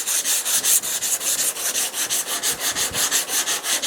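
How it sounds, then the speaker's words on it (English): Bondo body filler on a 1929 Chrysler window channel corner is sanded by hand, giving a rhythmic, close scratchy rubbing with even back-and-forth strokes at a steady pace. "I'm just sanding it down until I start to see high spots in the lower Bondo."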